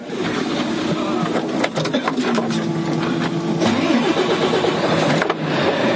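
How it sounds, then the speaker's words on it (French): A Volvo FH truck engine cranks and fires up close by, a rough rattling start that settles into a loud, uneven diesel idle. "Et on va pouvoir mettre le véhicule en route."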